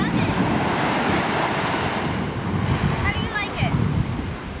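Ocean surf breaking on the shore in Hawaii, a loud, continuous wash of roaring water heavily buffeted by wind on the microphone, with faint voices briefly audible near the end.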